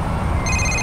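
A mobile phone rings in a noisy indoor scene of a French audio drama, its high electronic tone entering partway through and sustaining over a low background rumble.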